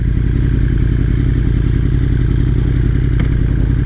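Kawasaki motorcycles idling and revving at a classic car show in Redondo Beach, a loud, close, rumbling engine chatter that stays continuous and heavy, with no talk over it.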